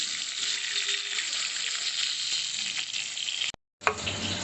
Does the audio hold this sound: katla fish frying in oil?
yes